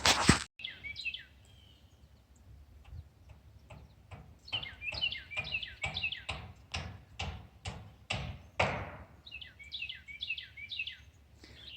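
A bird in a garden sings repeated bright chirping phrases in the background, mixed with a run of loud rhythmic knocking or tapping close by. No one speaks.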